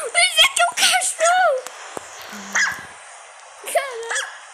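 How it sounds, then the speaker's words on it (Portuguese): A pet dog in Minecraft 1.17 giving a series of high yips, barks and whiny whimpers, fairly close and loud, broken up by short pauses. "O Isaac é um cachorro!"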